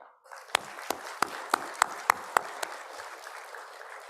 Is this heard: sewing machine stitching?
no